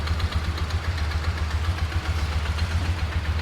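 A UTV engine fitted with Chinese eBay parts idles in a steady, close, low rumbling drone with an even pulsing beat and no change in speed.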